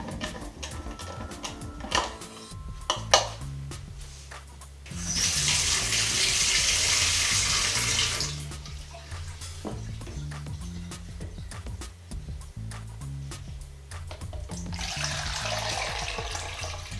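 Tap water rinsing developed film, a close, steady rushing hiss in two sustained runs of several seconds each, with a rhythmic mechanical hum from a nearby machine throughout.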